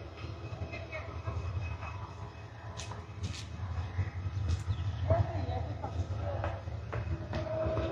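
A train rumbles low and steady at a crowded railway station platform during the Eid holiday rush, with scattered clanks and faint chirps, while a voice talks over it.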